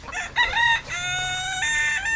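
Smoky Pearl chickens give loud, drawn-out, strained calls up close, one voice layering over another with no talking.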